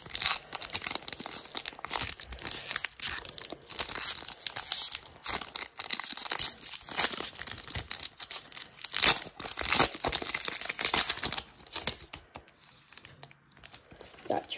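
2021 Panini Premier Draft High Series football card packs being torn open, with loud close crinkling and tearing of foil wrappers in irregular bursts throughout.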